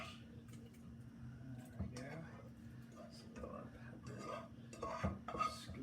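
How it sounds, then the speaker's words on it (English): A pepper and onion hot sauce mixture is scooped into a blender, heard as faint close scraping and clinks of a utensil against a container, with soft breathy sounds and a low steady hum underneath. "I'm going to scoop it into my blender here"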